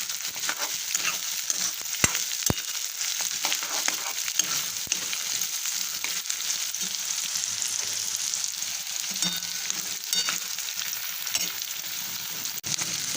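Poha with green onion and green chilies sizzles and crackles steadily in hot oil in a kadhai, with occasional stirring clicks and scrapes throughout, close and continuous with no talking.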